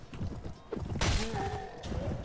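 Horse hooves clip-clop in a medieval battle video game, a quick run of light hoofbeats with a faint whinny-like tone and background game ambience.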